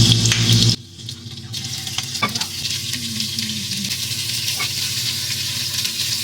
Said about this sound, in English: you hear that sizzle? In the oil, that means it's hot enough